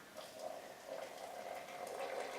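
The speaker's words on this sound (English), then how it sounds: "And we'll fill up the water." Steady stream of water pouring into a coffee maker, a continuous splashing trickle with a faint rising tone, close and fairly quiet with no talking.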